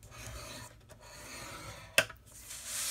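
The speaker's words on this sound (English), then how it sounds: "we're going to score it at 1/2 inch on each side" A blade scores a paper or board sheet at half-inch marks, giving a near, soft rasping rub that runs through the stretch, with one sharper scrape partway.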